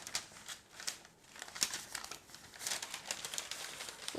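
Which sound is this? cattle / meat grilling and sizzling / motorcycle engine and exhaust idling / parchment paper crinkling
parchment paper crinkling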